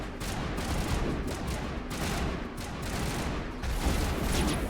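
Sustained gunfire rattles through a sci-fi battle in the video game Mass Effect, with dense volleys of shots and continuous crackling at a steady, fairly loud level.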